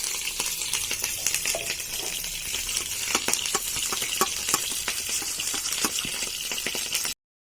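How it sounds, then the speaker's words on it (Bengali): Potatoes fry in hot oil for a paneer and vegetable dish, a continuous busy sizzle with sharp crackles and pops and occasional clinks, steady and close, with no talking. "এখানে দেখো আমি তেলে আলুগুলোকে দিয়ে দিয়েছি।"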